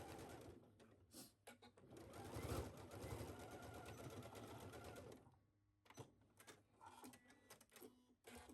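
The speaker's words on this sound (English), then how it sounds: "Pin and sew the shoulders of the facing the same way that you did the bodice pieces." A sewing machine stitches the shoulder seams of a sleeveless blouse facing in a burst of rapid, steady mechanical chatter lasting several seconds, followed by a few short stop-start runs and clicks.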